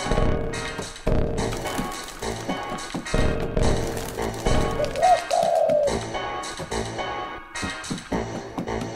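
Pigeons coo in the Jazzpunk video game, a short soft cooing call rising over busy, music-filled game sound with steady thumps and tones throughout.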